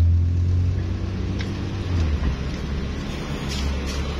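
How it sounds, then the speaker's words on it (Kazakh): A car engine runs at a steady idle close by, producing a constant low hum with a faint, even rumble throughout and no voices. "Азыр машина оталып турат."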